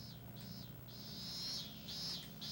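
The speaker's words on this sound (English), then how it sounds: "Birds are chirping." Ambient birdsong on a golf course in the video game Hot Shots Golf 3, a few bright repeated chirps and calls over a steady low background hum, fairly quiet and without talk.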